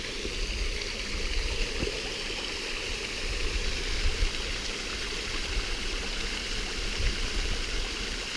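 Steady broadband rush of a waterfall and flowing river beside a wild camp, loud and continuous throughout with no voices, a dense even roar filling the whole stretch.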